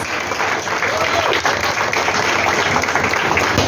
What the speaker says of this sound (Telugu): ఒక్కసారి మనం అందరం కూడా గట్టిగా చప్పట్లు కొడుతూ లెట్స్ హ్యావ్ సమ్ నాయిస్.